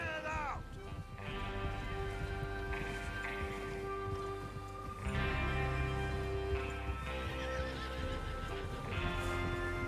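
Horses whinny and snort repeatedly in the Western game Red Dead Redemption 2, several loud neighs rising over a continuous musical score and ambient outdoor backdrop, with hoof sounds mixed underneath.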